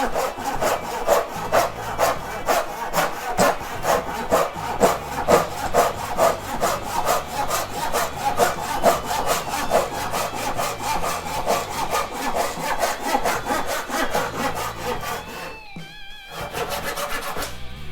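A Japanese pull saw (Stanley FatMax) cuts steadily through oak in quick, even rasping strokes, close and fairly loud, pausing briefly near the end before resuming.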